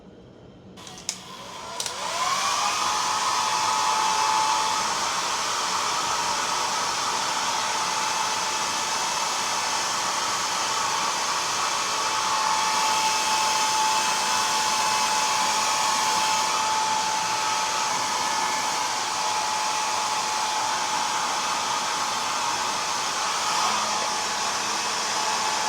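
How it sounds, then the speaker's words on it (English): A hair dryer switches on and blows hair with a loud, steady whooshing whine that holds unbroken for about twenty-five seconds, close to the microphone and with no talk. "then we can start the blow drying effect"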